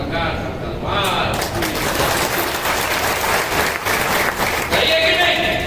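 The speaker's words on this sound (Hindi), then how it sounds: "ये करेरा की ताली है" A rally crowd in Karera breaks into thick, roaring applause that swells and holds for several seconds, with a voice speaking before and after the clapping.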